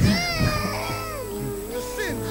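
Cats meow repeatedly in a played video of anthropomorphic cats, several close, bending, wavering meows in quick succession with voices overlapping.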